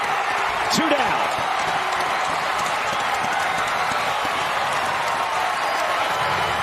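Baseball stadium crowd at Omaha during a Men's College World Series game between Florida and NC State rises and cheers, a steady broad roar filling the whole stretch with a brief sharp whistle-like rise early on.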